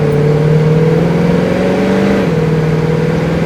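A 1970 Chevrolet Chevelle engine pulls hard under steady acceleration, its tone climbing, then dropping sharply as the automatic transmission shifts, before rising again, loud and close.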